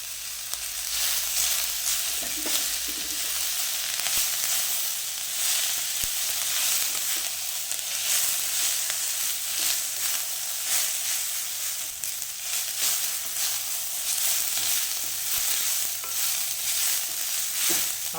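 Shredded cabbage stir-fries in a hot pan for Schezwan noodles, giving a steady, bright sizzle with continual scraping and tossing, close and loud with no voices.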